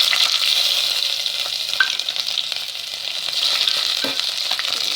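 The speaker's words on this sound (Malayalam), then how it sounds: "ഇനി അതിലേക്ക് ഇഞ്ചിയും വെളുത്തുള്ളിയും ചേർത്ത്" Ginger and garlic sizzle in a frying pan while being stirred, a continuous close hiss broken by occasional light scrapes, with no speech.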